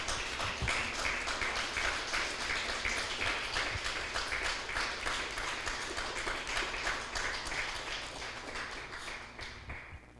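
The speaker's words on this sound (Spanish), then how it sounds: "Den un fuerte aplauso" A church congregation applauds at a service, with dense, steady clapping that fills the space and thins out slightly near the end.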